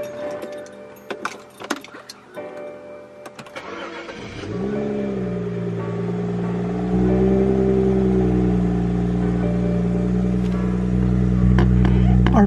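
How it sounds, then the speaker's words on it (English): A BMW 335i (E90) with an N55 engine, after spark plug and ignition coil replacement, cranks and catches after some light handling noises, then settles into a steady, close idle with a low hum. "The car's been sitting overnight, so let's just start it up to see how it sounds."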